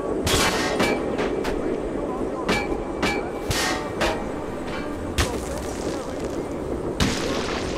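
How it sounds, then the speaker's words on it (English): Gunfire in the video game Metro 2033, a series of sharp, irregular shots cracking over a steady rumbling background, fairly close and loud. "is there someone shooting at me?"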